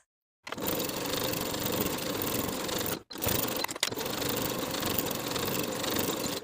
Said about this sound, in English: Sew both side seams with a 3/8 inch seam allowance from the bottom of the main across the seam to the bottom of the lining